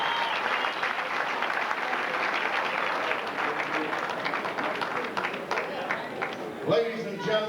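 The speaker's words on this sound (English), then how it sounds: "a warm applause for their efforts here in our first time meeting" Crowd applause for boxers after a pro boxing match, steady clapping with scattered cheers in an arena, with an announcer's voice breaking in near the end.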